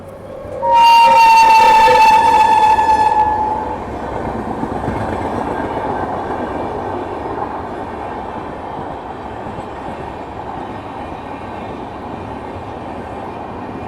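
The Andhra Pradesh Sampark Kranti train passes on an Indian railway line, opening with a loud blast of its horn, followed by a steady, close rumble of wheels and carriages rolling by.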